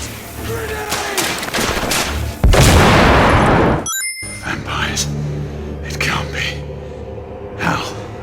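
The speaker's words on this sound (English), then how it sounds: "Grenade out!" A grenade blast and gunfire in The Order: 1886 burst out with a loud sustained roar mid-clip, set against ongoing combat noise, music and game voices.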